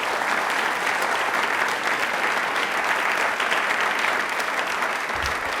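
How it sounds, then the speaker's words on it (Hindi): Loud, sustained applause from a studio audience at an Independence Day quiz show fills the whole stretch, dense and even clapping with no voices. "इनके लिए तालियां जोरदार होनी चाहिए थी"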